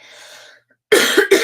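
A woman coughs twice in quick succession, close and loud, after a brief quiet murmur of breath.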